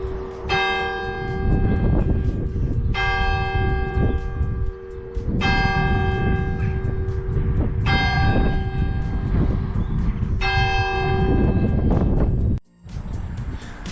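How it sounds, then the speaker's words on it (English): Bells of the village church in Scothern ring loudly and up close in five evenly spaced peals, each ringing on for a couple of seconds over steady wind rumble and distant traffic, with no voices. "I was just about to walk away from the church and its bells started to chime"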